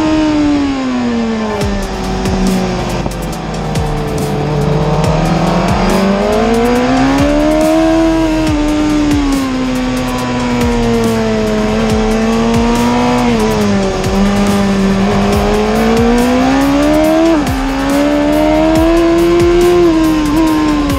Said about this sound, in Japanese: ビッグバイクでのこの狭い筑波での5台のバトルは迫力満点です